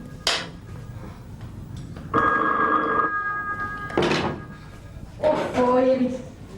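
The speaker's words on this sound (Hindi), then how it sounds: "फोन की घंटी, फोन की घंटी सुने" An old-style telephone bell rings in a few separate bursts, with short pauses between them and a voice speaking briefly among the rings.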